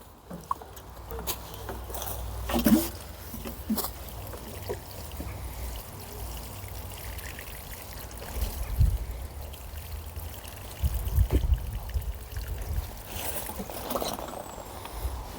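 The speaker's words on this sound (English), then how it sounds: "Right, let's give it a good water in." Water is poured around a newly planted David Austin rose on a no-dig allotment in spring, with irregular splashing and trickling bursts and soft handling noises close by, and no talking.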